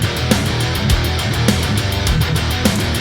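A heavy drum kit pounds out a fast, stompy pattern, hard-hit kick and snare landing in a driving rhythm with crashing cymbals over a loud, dense mix.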